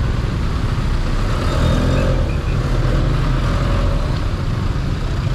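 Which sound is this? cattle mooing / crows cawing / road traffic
road traffic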